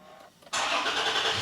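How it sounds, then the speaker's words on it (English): A Toyota Tacoma pickup engine cranks briefly after a push-button start, then catches, roaring to life and settling into a steady, loud idle nearby. "we've got a normal crank and start"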